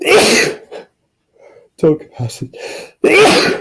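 A person sneezes during a physics tutoring session on capacitance, a short sharp burst near the start of the clip, with speech resuming right after.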